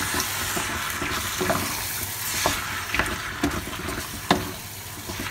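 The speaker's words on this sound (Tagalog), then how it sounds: "Sunod na po natin ang ating menudo cut na marinated po. Haluin lang po natin mabuti." Marinated menudo pork cuts are stirred in a hot pan, crackling and sizzling steadily up close, with repeated scraping and clinking of the spatula against the pan and one sharper knock near the end.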